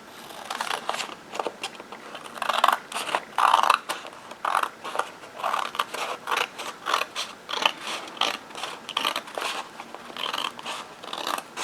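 Scissors cut paper for a Midori style cover in a steady run of close, rhythmic snips and crunches, with no voices.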